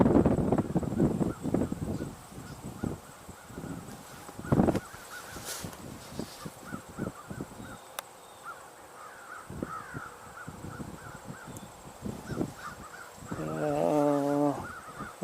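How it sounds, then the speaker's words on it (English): A flock of starlings calls outdoors, with many harsh chattering and cawing notes in irregular bursts, moderately close, and a few wing flutters and other faint background sounds. "Looks like the starlings are on the move again."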